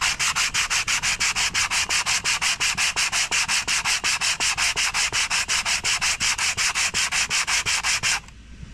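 Sandpaper scrubs rapidly back and forth over a Mitsubishi Mirage brake pad, a loud, even rhythmic rasping of about four strokes per second that continues steadily, then stops abruptly.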